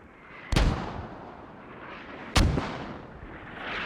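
Two distant mortar impacts boom in a tactical military shooter game, each a sharp crack followed by a rumbling tail, spaced about two seconds apart with quiet ambience between.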